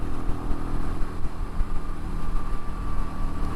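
Royal Enfield Meteor 350 motorcycle cruising at about 60 mph, a steady, loud engine drone with constant rumble and wind noise, no voices over it.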